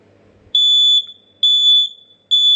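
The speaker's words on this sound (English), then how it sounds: "It's a Family Guard FGA88D or 83R from 1998. Let's give it a test." A 1998 Family Guard FGA88D smoke alarm under test gives three loud, piercing beeps, each about half a second long, separated by short gaps and heard close up.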